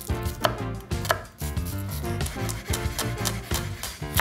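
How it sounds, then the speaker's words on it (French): Rapid, rhythmic knife chops through shallots on a cutting board, a quick steady series of close, crisp taps with no talking. "Pour ça, on coupe les échalotes."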